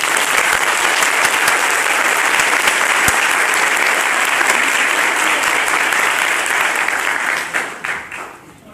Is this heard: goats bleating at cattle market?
no